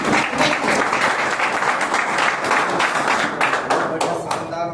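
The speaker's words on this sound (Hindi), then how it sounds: "खड़े होकर अपने लिए एक बार जोरदार ताली" A standing audience at a motivational success training session claps loudly, a dense, close roar of many hands that keeps going with some sharper individual claps, while a voice speaks over it near the end.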